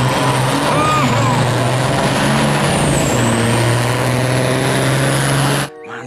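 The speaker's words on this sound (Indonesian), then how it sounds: "Wow, mobil kontainer teman-teman." A container truck with air brakes passes loudly and close on a busy road. Its engine drones steadily, a high hiss rises and falls, and the sound cuts off abruptly near the end.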